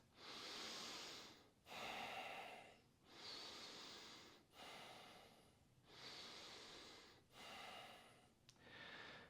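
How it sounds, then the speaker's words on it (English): Forceful breathing in and out through the nose during a yoga-style workout, six or seven strong rushing breaths in a steady rhythm of roughly three seconds each, close and clear with no talk. "breathing in and out through your nose actively"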